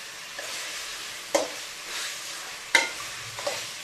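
Chicken legs fry with turmeric powder in a pan, a close steady sizzle with a few sharp spatula scrapes and stirring knocks at intervals; no voices.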